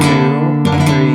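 A flamenco guitar strummed with ringing chords in a tangos rhythm, then a sharp percussive golpe tap on the body on the first beat and a fresh bright strum, played alone and close.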